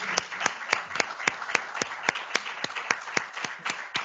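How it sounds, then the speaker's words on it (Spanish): Seminar audience clapping for the speakers, a sparse, fairly faint patter of distinct hand claps at an uneven rhythm, like a modest group in a room, with no talking over it. "primero les voy a dar un aplauso a los ponentes"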